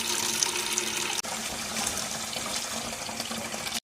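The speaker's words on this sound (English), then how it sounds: "I'm going to fill it to about a gallon of water, and then I'll put about a half a cup of Epsom salt in the water." Tap water pours steadily into a 5-gallon bucket, a close, continuous rushing splash with one brief break partway through and no talking.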